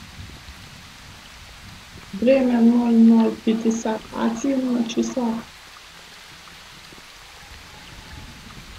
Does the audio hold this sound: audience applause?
no